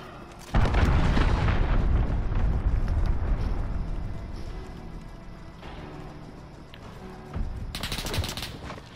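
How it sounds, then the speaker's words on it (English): Cruise missile strike in a Call of Duty game, opening with a sudden loud explosion that rumbles and fades, then a second blast rising near the end. "Allied cruise missile away."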